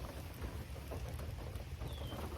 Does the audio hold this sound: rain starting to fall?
yes